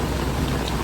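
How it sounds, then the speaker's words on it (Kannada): Rain falls at an outdoor Kambala buffalo race, a dense, steady patter heard briefly and fairly loud with no voices. "ಇನ್ನೇನು ಕಂಬಳ ಸ್ಟಾರ್ಟ್ ಆಗಬೇಕಿತ್ತು, ಅಷ್ಟರೊಳಗೆ ಮಳೆ ಸ್ಟಾರ್ಟ್ ಆಗಬೇಕು."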